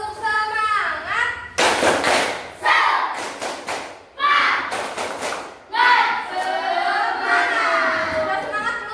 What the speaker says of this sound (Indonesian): sebaiknya kita tepuk semangat dulu yuk